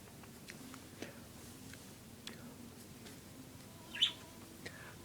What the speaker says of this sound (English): I hear some chirping.